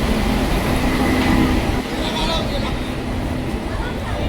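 A passenger train pulls into a railway station on a trip to Ujjain, heard as a loud, steady rumble mixed with crowd chatter and talking.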